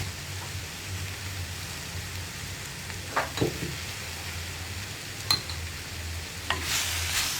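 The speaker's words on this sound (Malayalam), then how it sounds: "തക്കാളി ചേർത്തിട്ട് വീണ്ടും വഴറ്റുക നന്നായിട്ട്" Tomatoes sauté in oil in a pan for a tomato fish curry, making a steady, gentle sizzle, with a few sharp clinks and scrapes of the spoon as they are stirred.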